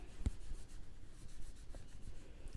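A pen writing an accounting entry on paper, heard as a faint, close scratching with soft strokes over a quiet, steady background and one brief tap near the start, with no speech.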